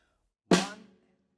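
A single snare drum stroke rings out close and alone, a sharp crack that decays within about half a second.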